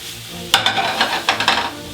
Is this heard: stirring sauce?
yes